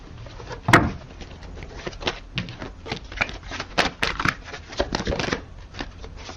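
Tarot cards being shuffled and drawn: a dense run of soft papery riffles, flicks and taps, close and fairly quiet, with a sharper snap near the start and no talking.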